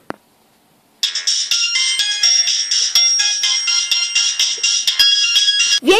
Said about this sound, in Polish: telefon dzwoni, odbierz!